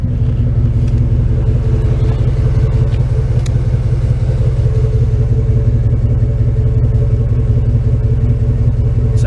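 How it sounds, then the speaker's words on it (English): Steady, loud idle of a 1995 Chevrolet Tahoe exhaust with a freshly installed engine, a deep even rumble with a faint rhythmic pulse, close by and uninterrupted. "let's listen to the exhaust."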